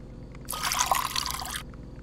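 Water pouring into a coffee machine in the Fears To Fathom video game, a short, bright trickling splash lasting about a second over a low background hum.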